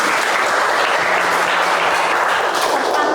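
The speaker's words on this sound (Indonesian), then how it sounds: "tepuk tangan dulu" A classroom audience gives a round of applause, loud and continuous clapping from many hands close by, sustained evenly throughout with no talk.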